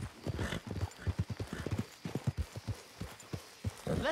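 Horse hooves clip-clop steadily in Red Dead Redemption 2 as horses are led at a walk, an irregular close rhythm of knocks joined by a brief whinny near the end.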